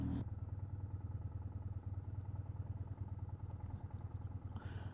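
A BMW R1150GS motorcycle engine on the road gives a steady low, rhythmic thrum with a faint clatter, held evenly throughout at a moderate level.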